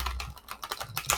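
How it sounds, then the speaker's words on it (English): Tarot cards being shuffled produce a quick run of dry, close clicks and soft riffling taps in an uneven rhythm, with no talking. "let me just shuffle these cards here"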